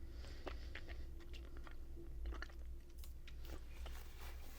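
Soft, toffee-flavoured English sweets are chewed close up in a quiet room, with slow, moist bites and faint sticky clicks in an uneven rhythm.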